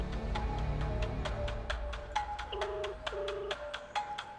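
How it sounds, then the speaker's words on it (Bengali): A phone rings on a call placed toward a cafe, with a repeating electronic ring tone in steady pulses at moderate loudness and no talking. "রিং হচ্ছে।"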